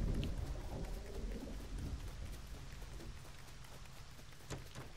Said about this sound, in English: probably thunder.